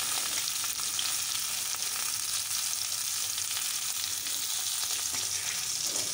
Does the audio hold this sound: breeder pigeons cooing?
no